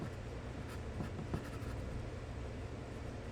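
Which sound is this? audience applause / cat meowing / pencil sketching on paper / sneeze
pencil sketching on paper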